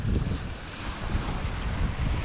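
North Sea waves crashing against rocks and throwing spray, a loud continuous rumbling wash close by, heavy wind buffeting the microphone throughout, no voices.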